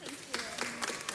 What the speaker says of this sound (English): let's give them a big, big round of applause